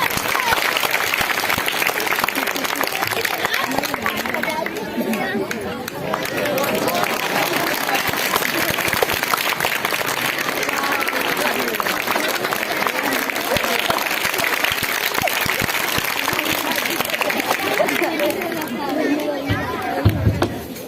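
A crowd at a live magic show in Gwalior claps in steady, continuous applause for about twenty seconds, with chatter mixed in underneath.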